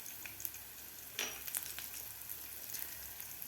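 Asafoetida and spices frying in hot oil for a potato and pea chaat, giving a steady soft sizzle with light crackles and one brief brighter burst, fairly quiet and with no voices.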